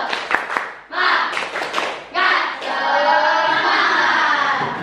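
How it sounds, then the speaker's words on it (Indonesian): A class claps a rhythmic Indonesian spirit clap, several short bursts of sharp hand claps in a pattern, then a louder sustained stretch of clapping and young voices chanting together close by. "Tepuk semangat."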